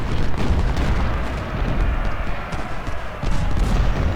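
A volley of musket fire in the Ultimate General: Civil War strategy game: a dense, continuous rumble of overlapping shots and booms that stays loud throughout, with small surges and dips.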